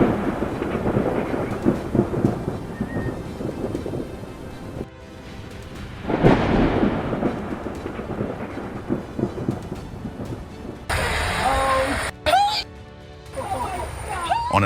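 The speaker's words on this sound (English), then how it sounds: "A stunning lightning storm lit up Mackay, Queensland." Thunder rumbles and crashes over steady rain during a night lightning storm in Mackay, Queensland, with loud booming peaks and quieter stretches between.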